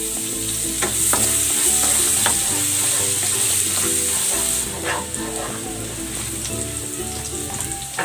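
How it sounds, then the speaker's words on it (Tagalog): Garlic sautéing in a pan sizzles steadily with a broad bright hiss, while a utensil stirs and scrapes in repeated knocks; the sizzle eases slightly partway through, and a faint dog barking sounds in the background. "Magigisa na ako ng bawang."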